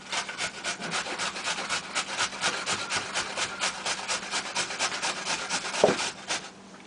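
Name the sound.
grating celery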